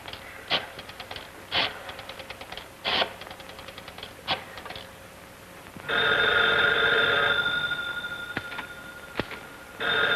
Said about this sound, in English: I can hear him trying to type